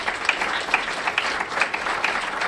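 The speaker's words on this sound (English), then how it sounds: "And one more round of applause." Audience applause at a virtual investor summit, a steady wash of many hands clapping throughout, fairly close and even in level.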